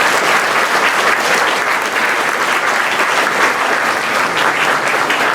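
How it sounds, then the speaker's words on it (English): Dense, steady applause from an audience thanking guests at an evening event, a continuous wash of many hands clapping at full loudness throughout. "please join me showing appreciation, a round of applause for our guests"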